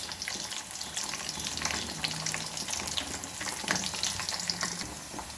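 Slit green chillies and finely chopped ginger sizzle and crackle in hot oil in a pan, a steady close frying hiss with scattered pops and light stirring clatter.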